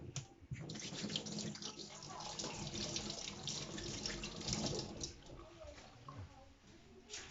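Tap water runs steadily into a kitchen sink as hands are rinsed while baking bacon and leek tartlets, a continuous close splashing flow lasting several seconds with no talking.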